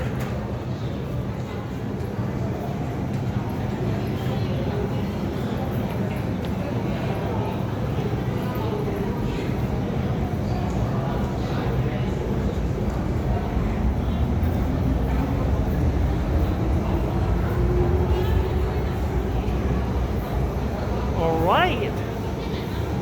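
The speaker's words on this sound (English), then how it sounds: "Waiting for the train to leave." An MTR Kwun Tong line M-Train in Hong Kong pulls away from the station, giving a steady, loud rumble throughout with a brief rising motor whine near the end.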